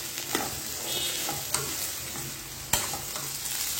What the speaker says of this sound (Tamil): இந்த 2 நிமிஷம் நல்லா எண்ணெயிலே சேர்த்து இந்த கேரட் வெங்காயத்தோட எல்லாம் வதக்கி எடுத்துக்கலாம்